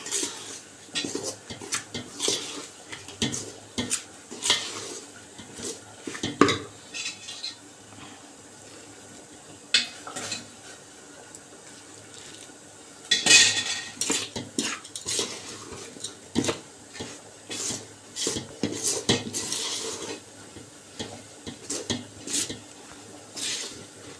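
Spoon scraping and clinking against a bowl as rice flour dough for sweet kozhukattai is stirred with boiling water, with irregular bursts of clatter and a brief splash of water, close by.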